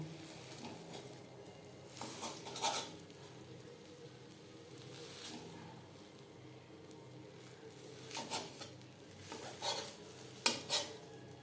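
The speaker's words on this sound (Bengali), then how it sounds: "এইভাবে খুন্তির সাহায্যে একটু টুকরো করে নেব" Spatula chopping a cooked egg-and-flour omelette into pieces in a pan, with scattered metallic scrapes and taps in clusters over a low kitchen background, moderately quiet and without talk.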